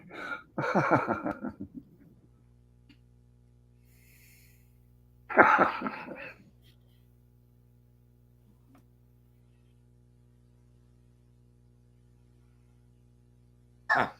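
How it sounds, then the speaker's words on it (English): Two separate bouts of harsh coughing up close, each a cluster of rough bursts, with long near-silent gaps between them and a brief cough at the end. "Sorry about that delay. I had a cough."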